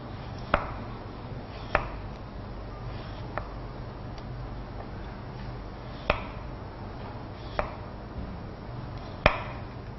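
A knife slices carrot into thin strips on a cutting board, giving sharp, isolated knocks spaced about every second or two, close and fairly quiet against a faint background hum.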